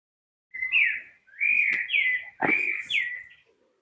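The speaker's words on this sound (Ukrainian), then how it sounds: "слухай спів пташечок" Songbirds in a garden of spruces and thujas sing several clear whistled phrases in quick succession, rising and falling notes with short pauses, close and distinct against quiet surroundings.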